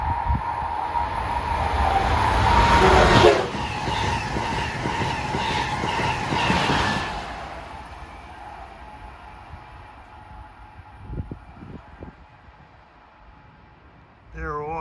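An Amtrak Acela train, number 2122 from Washington to New York, passes on the Northeast Corridor near Seabrook: a loud rushing roar that peaks early, then a long fading rumble and rail noise.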